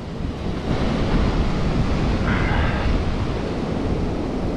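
Steady roar of ocean surf with broad washing waves and some wind buffeting on the microphone, continuous and fairly loud throughout with no speech.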